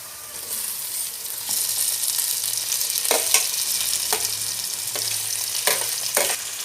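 Onions and tomato frying in a pan for Mangalore-style chicken dum biryani, a steady close sizzle broken by several sharp bursts as the mixture is stirred.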